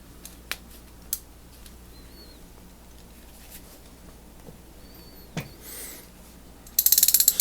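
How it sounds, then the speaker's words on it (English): A Benchtop 3203003 3/8-inch drive ratchet gives a few sharp, separate clicks in a quiet room, then ends with a quick burst of rapid pawl clicking. "See if it's ratcheting."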